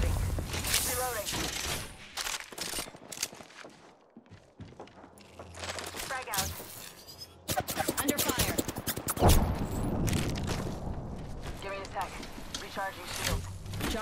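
Gunfire in Apex Legends, scattered shots and bursts mixed with in-game voice callouts and other game effects, fairly loud and busy throughout.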